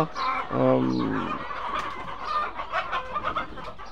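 Tiger chickens at a breeding farm in Thakurgaon cluck in a busy flock, one loud stacked call standing out early, then a steady run of overlapping clucks and chatter close by.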